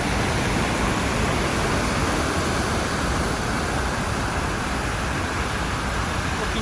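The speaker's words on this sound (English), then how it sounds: "It's really a spectacular complex of waterfalls." Veslulfossen waterfall in Rondane National Park, Norway, roars as a dense, unbroken broadband rush of falling water, loud and constant throughout.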